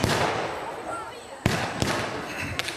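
Sharp gunshot cracks ring out several times at irregular intervals over a dense, rumbling battle din at a battle reenactment near a village, with voices mixed into the background.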